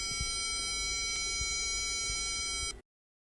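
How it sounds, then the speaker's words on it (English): A calculator's beep command sounds a steady 440 Hz square-wave tone held for about three seconds, faint and thin over a background hum, then cutting off abruptly into silence. "That was the sound produced by the calculator."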